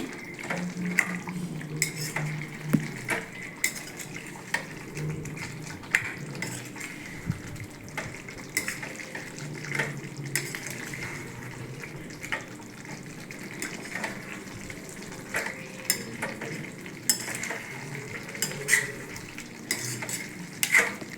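Chicken with chili powder being stirred in a pot, with scraping and clinking of a spoon against metal over a low sizzle, irregular strokes repeating near and fairly quiet, no talking.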